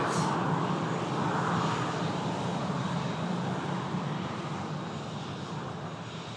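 Jet2 Airbus A321 landing and touching down after a flight from the Spanish Islands, a loud, sustained engine and airflow roar that slowly fades as the jet rolls out, with no voices.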